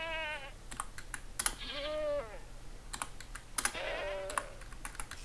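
Minecraft goat hurt and death sounds: several short bleating cries with wavering pitch, separated by sharp clicking thuds, clear and close against a faint background hum.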